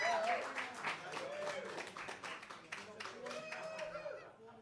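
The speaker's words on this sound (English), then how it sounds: "Let's give a big round of applause for Paul Santos and Joanne Raposa" An audience claps while voices call out and talk over it, the applause and chatter mingling at moderate volume.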